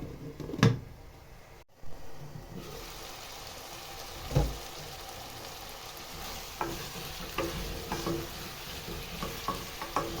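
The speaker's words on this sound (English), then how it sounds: "I'm gonna cover it and let it to simmer for 2 minutes" Chicken pilau simmers in a covered pot with a soft, steady low bubbling and hiss, broken by a few faint clinks and knocks.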